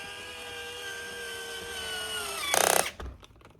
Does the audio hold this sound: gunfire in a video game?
no